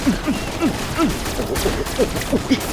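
Cartoonish gunfire from the Swamp Attack mobile game as enemies are shot: a steady series of quick, light popping shots over a busy game background.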